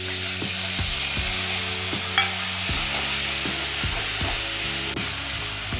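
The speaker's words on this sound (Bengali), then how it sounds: "এগুলো একটু নাড়ি চাড়িয়ে নেবো এরপরে পেঁয়াজ বাটাটা দিয়ে নিচ্ছি" Whole spices, panch phoron, bay leaf and dried chilli, then onion paste frying in oil for katla kalia, with a steady loud sizzle and regular rhythmic scrapes of a spoon stirring the pan.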